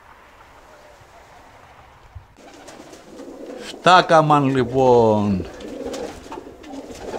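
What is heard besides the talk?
havades pigeons cooing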